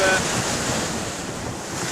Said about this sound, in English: It's a little bit windy and surgy at the moment.